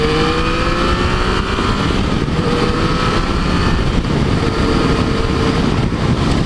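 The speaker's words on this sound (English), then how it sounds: "I'm riding my freaking motorcycle right now" A Yamaha FJ-09 motorcycle is ridden on the road, its engine droning steadily with rushing wind noise throughout, close and loud, with no talking.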